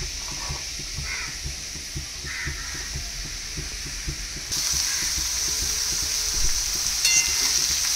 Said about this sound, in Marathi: तर याच्यामध्ये ही जे आपण चिरून ठेवलेली कोबी आहे ती तेल गरम झाले की त्यात टाकायचं आहे।